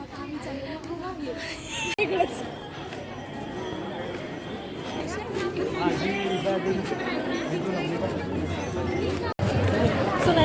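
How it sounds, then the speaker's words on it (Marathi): Dense crowd chatter fills a packed college event, many overlapping voices talking steadily throughout with a busy, close hubbub and a couple of brief dropouts. "जरा जास्तच गर्दी झाली"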